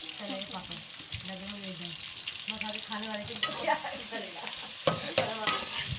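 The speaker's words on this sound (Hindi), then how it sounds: "अब हम प्याज फ्राई कर लेंगे" Steady sizzling and frying of onions in a pan, cooked for a beef mince and bitter gourd curry, with a person talking over it and occasional clinks of a utensil stirring.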